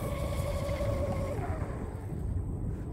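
Fast electric RC boat making a full-throttle pass on open water, a high whining motor tone that sweeps downward as it races by, with wind and water noise beneath it.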